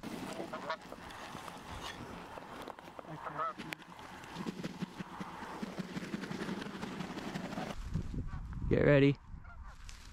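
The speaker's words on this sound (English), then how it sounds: "There's birds." Geese and ducks honk and call overhead during a foggy morning waterfowl hunt in western Manitoba. Faint calls sit under a quiet voice, then one loud, close honking burst sounds near the end.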